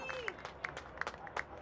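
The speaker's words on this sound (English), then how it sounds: "Peterson gets a lovely round of applause" Faint crowd applause at a women's soccer match between AFC Ann Arbor and Cleveland Force FC as player Peterson comes over, heard at a distance beneath a commentator's voice.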